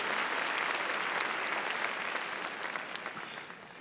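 A congregation at a Sunday evening church service claps loudly together, a dense, steady wash of applause that tapers off slightly toward the end.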